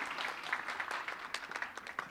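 A church congregation claps in applause for a scholarship awarded to a graduating youth. The clapping is soft and somewhat distant, a brief scattered patter of many hands that carries on throughout.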